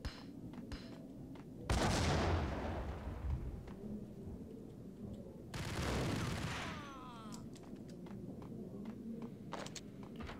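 Gunfire in the Max Payne video game: two heavy, loud bursts of shots and impacts, a sustained volley early and another mid-clip, with quieter scattered pops and faint game ambience between them.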